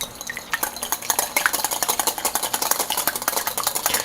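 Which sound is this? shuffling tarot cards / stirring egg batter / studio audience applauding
stirring egg batter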